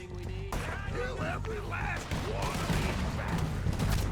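Red Dead Redemption 2 gang shootout against O'Driscolls in-game, with a steady rattle of gunfire and impacts running under continuous speech throughout.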